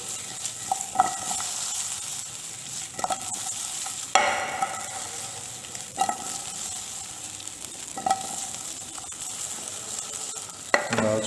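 Diced potatoes being stirred and toasted with a wooden spatula in a pan, a faint background sizzle broken by periodic scraping knocks of wood on metal every couple of seconds, no voices.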